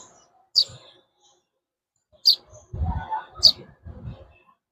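A pet bird raised at home gives three short, bright chirps spaced a couple of seconds apart, close by, with a person speaking softly between the later calls.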